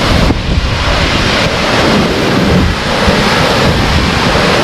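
A rushing river and waterfall spray on the Elidir Trail at Sgwd Einion Gam fill the clip with a loud, dense, continuous roar, buffeted by wind noise on the microphone.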